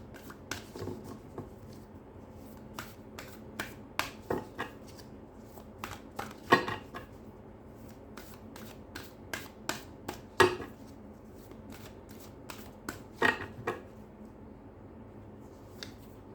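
Tarot cards are shuffled by hand, producing close, irregular crisp flicks and soft riffling slaps spread across the whole stretch in a quiet room.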